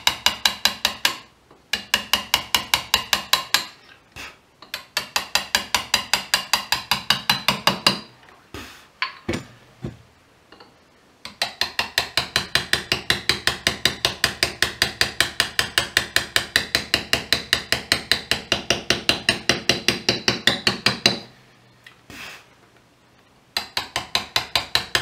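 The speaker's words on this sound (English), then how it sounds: "I'm taking off a really, really fine cut, you know, probably a half a millimetre or less each pass of the chisel" Hand chisel and mallet carving lettering into stone, fine cuts struck in long fast runs of sharp, evenly spaced taps, loud and close, pausing briefly between bursts.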